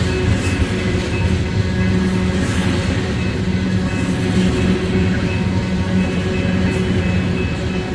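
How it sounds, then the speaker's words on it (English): Union Pacific westbound freight train rolling past on the middle track at California Junction, Iowa, a steady, loud, continuous rumble of wheels and cars with faint rail clatter throughout. "Another westbound coming up behind him on the middle track."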